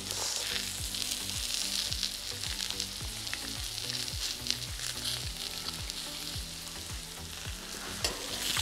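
Oysters and butter sizzle steadily on a brazier plancha, a dense close frying hiss that runs unbroken with no talk over it.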